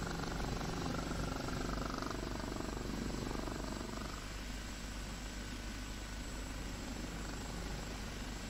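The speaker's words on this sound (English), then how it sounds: "Oh, and the rotor slap." An OH-58D helicopter's rotor slaps steadily and loudly nearby, a dense rhythmic beating under constant engine roar throughout.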